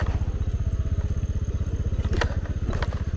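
A motorcycle is ridden slowly over a very rough, damaged road, its engine thudding in a steady, rapid rhythm close by. Faint clatter and crackle mix in with the engine.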